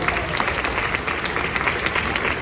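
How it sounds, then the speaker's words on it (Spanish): Congregation applauding in a church to welcome a new pastor, steady dense clapping throughout at moderate level with no pauses. "Vamos a dar un aplauso a Nelson."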